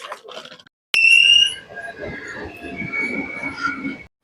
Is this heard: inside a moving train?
yes